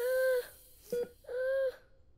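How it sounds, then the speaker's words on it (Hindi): Phone ringing in a hospital delivery room, two clear electronic ring bursts separated by a short pause, with a brief chirp between them. "मैम आपका फोन आया।"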